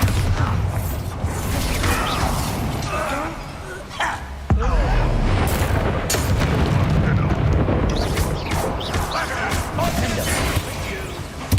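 Spell blasts and booming impacts in the wizarding game Hogwarts Legacy, with the Bombarda explosion spell among them, roll through a dense, constant din of combat effects and creaking mechanisms, while voices speak over the fight.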